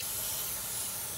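A continuous close hiss of brake cleaner sprayed from an aerosol can onto a car's brake rotor, steady and unbroken throughout with no talking.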